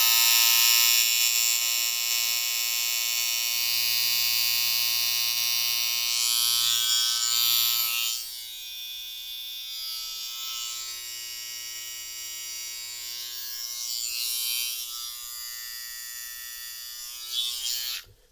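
A Kiepe Snoods hair clipper switched on, giving a loud, steady electric buzz with a high-pitched whine that holds for about eight seconds, then shifts to a slightly lower, quieter hum until it cuts off near the end.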